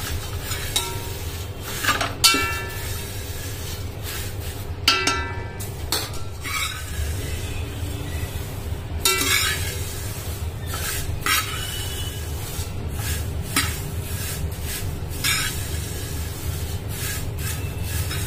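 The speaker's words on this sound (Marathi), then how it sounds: "बघू शकता आपल्याला कसं इझिली ह्या चमच्यानी छान असं भाजून होतंय" Thin flattened rice (poha) being dry-roasted in a large pot, stirred with a spoon, making repeated scraping and clinking strokes against the metal in an irregular rhythm over a low steady background rumble.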